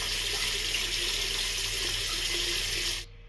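Water runs steadily from a tap to soak a shaving brush, a constant hiss that cuts off abruptly near the end.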